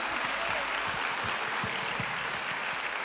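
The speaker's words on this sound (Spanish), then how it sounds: "aplauda a los Reyes de Reyes." A worship-night congregation claps together in a steady, dense wash of applause that stays even throughout and sounds moderately distant.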